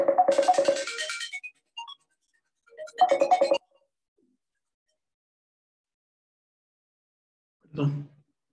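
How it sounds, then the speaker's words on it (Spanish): A telephone rings in bursts during a class, two buzzy trilling rings a couple of seconds apart, followed after a pause by a short low thump, with no talking. "era el teléfono"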